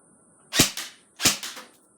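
G&G CM16 Raider airsoft gun firing two sharp, close bursts of two or three cracking shots each, separated by a short pause, with no other sound around them.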